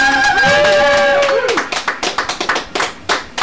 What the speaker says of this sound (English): clap it up, audience